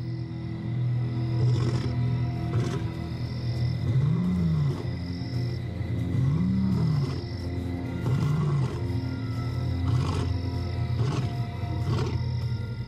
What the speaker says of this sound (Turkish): Kükremesi 5 kilometre öteye ulaşabiliyor.